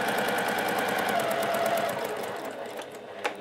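A Juki TL-2010Q sewing machine runs a straight stitch at normal length, a fast, even mechanical chatter close by that slows slightly toward the end, finishing with a sharp click.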